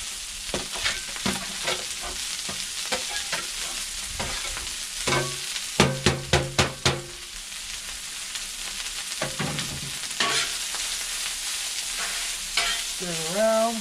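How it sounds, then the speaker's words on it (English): Rice dropped onto a hot, oiled Blackstone griddle for chicken fried rice, sizzling and frying while a spatula scrapes and clacks against the steel in bursts, including a quick run of sharp metallic taps. "drop that down and listen to it sizzle"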